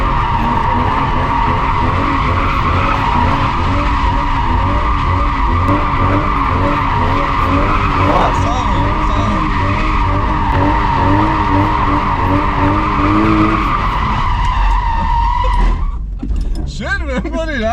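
A car drifts at a drift event, its tires squealing loudly and continuously up close over a strained, revving engine, before the screech breaks off abruptly near the end.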